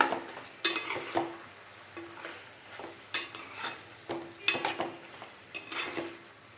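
Masala for a broad bean and tomato curry frying in a pan, with a spatula scraping and clinking in quick, repeated strokes over a faint sizzle, close and clear.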